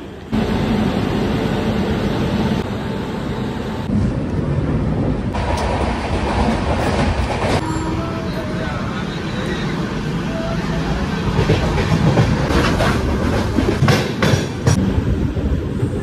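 A train departing Bardhaman Junction station rumbles loudly nearby with a steady mechanical roar and some rattling, while people talk in the background.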